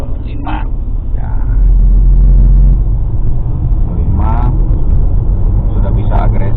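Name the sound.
Mercedes-Benz E250 coupe W207 M271 turbo driving on toll road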